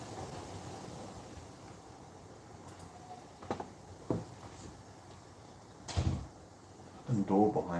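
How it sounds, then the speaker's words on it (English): A door behind a person at a computer bangs and rattles on a windy day, giving several irregular soft knocks over a steady wind rush while the person talks. "The door behind me is like, I don't know if you can hear it, but it's annoying."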